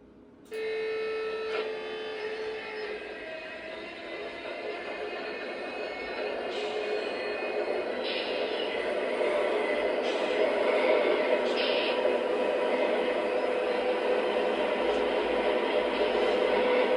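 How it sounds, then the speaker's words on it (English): An MTH Premier Conrail Dash 8 model locomotive plays its GE diesel startup sound: a sudden click, then a whining, humming engine that builds steadily and settles into a loud, droning idle, with a few brief tonal shifts and no talk. "Very nice, typical GE startup. MTH did a great job with that"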